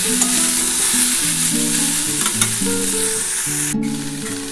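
Bitter gourd, potato and raw banana frying in a little oil in a pan, giving a loud, steady sizzle close up, broken by occasional scrapes and stirring, with no talk over it.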